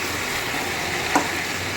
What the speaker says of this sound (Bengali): এবার আমি খুব ভালো করে মশলাটা দিয়ে কষাবো, ভীষণ ভালোভাবে কষাবো